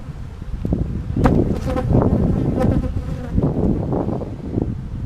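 Honey bees buzzing loudly around an open hive during a hot-weather inspection, a dense close swarm drone with individual bees whizzing past the microphone.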